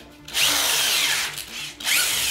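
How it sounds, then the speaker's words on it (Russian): An electric drill bores into a floor panel for a hidden hatch under laminate, whining up in two close bursts with a short dip in between as the bit bites into the material. "и сверлим люк"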